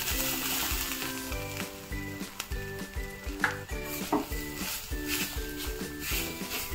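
Grated coconut sautés in a pan over a low gas flame, giving a steady sizzle with light stirring scrapes, while music plays throughout.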